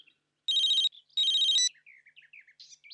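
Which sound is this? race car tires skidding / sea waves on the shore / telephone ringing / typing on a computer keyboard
telephone ringing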